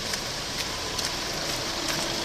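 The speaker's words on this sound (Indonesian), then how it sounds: "Hujan makin lebat teman-teman." Heavy rain pouring down on a muddy, slippery road in Peunaron, East Aceh, a dense, loud, continuous hiss of falling water with no pauses.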